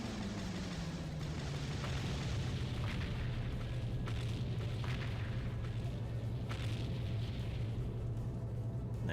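Launcher explosions in the PS2 tank game Seek and Destroy, a run of deep booms and bursts over a continuous low engine rumble, fairly muffled and evenly spaced.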